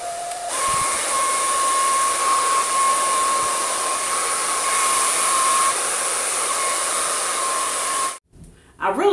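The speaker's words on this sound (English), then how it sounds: "So I'm gonna go ahead and finish blow drying my hair." A hair dryer runs steadily with a loud, airy hiss and a high whine for about eight seconds, then cuts off abruptly near the end.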